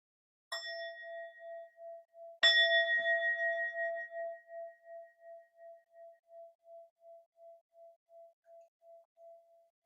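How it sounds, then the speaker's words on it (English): A bell rung for a moment of silence in a healing circle is struck twice, two seconds apart. Each clear strike rings out, then fades slowly with a gentle pulsing shimmer into silence. "I'm going to ring a bell as we just take a moment of silence"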